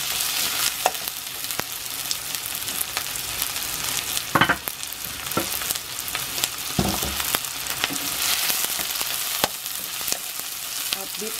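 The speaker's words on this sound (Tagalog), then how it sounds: "So, hintayin natin ma-saute ng konti itong sibuyas." Onions, red or white, sauté in a pan for squid adobo: a steady, close, bright sizzle with scattered crackles and a few louder pops and stirring scrapes, no talking.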